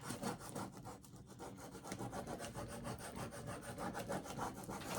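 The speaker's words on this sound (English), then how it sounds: "So I'm just gonna rub it, burnish it." Vinyl decal from Expressions Vinyl being rubbed and burnished onto a surface on a sewing table, a steady continuous scraping rub with quick repeated strokes, close and fairly quiet, no talking.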